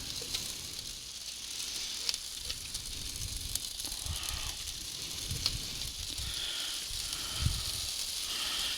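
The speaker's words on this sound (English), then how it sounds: "That's sizzling" Mashed eggplant mixture sizzling in a hot skillet for a vegetarian skillet pie, a steady close hiss with occasional crackles and soft scraping bumps, no talking.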